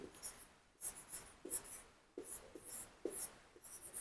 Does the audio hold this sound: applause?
no